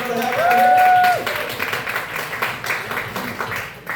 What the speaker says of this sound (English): if we can have one round of applause for the inheritors